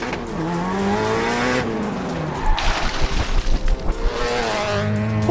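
Pickup truck accelerating hard, engine revving up through rising and falling tones with tire squeal and skidding, loud and close, no talk.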